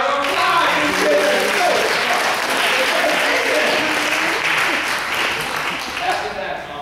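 An audience at a school talk breaks into loud, sustained clapping that fills the room, with a voice speaking faintly beneath the applause before it begins to thin out at the end.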